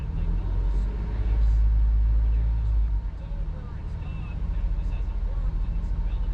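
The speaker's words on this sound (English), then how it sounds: "Foot on the brake, I'm going to rev it up a little bit. About 2 grand." Idle engine rumble of a Jeep Grand Cherokee with a ZF 8-speed transmission, held in neutral with the brake on and revved lightly to about 2000 rpm, giving a steady low drone that swells and then settles back.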